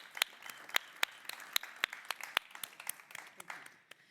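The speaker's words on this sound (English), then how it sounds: "give a huge round of applause to our dear organizers here" A small conference audience gives a sparse round of applause for the organizers at an Angular talk, a few distinct claps spaced out over a few seconds, fairly quiet and thin.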